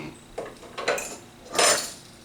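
Clinking and a hiss-like burst as a clear glass bottle of Cerveza Monterrey beer is handled and opened, a few light taps followed by a louder, brighter release near the end, close up with no talk.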